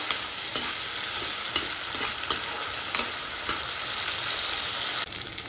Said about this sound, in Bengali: পেঁয়াজটা আমার একদম ভাজা ভাজা হয়ে গেছে।